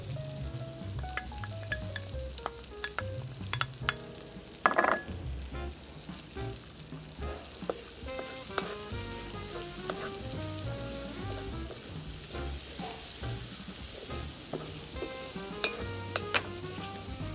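Garlic and onion sautéing in a pan outdoors, a steady crackling sizzle throughout with occasional utensil scrapes and taps, close and continuous, no talking.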